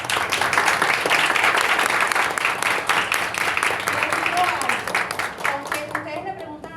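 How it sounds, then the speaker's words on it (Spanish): Participants at a strategy workshop applaud together, a full steady round of clapping that fades near the end as a voice begins to speak over it. "yo les voy a pedir que se regalen un aplauso,"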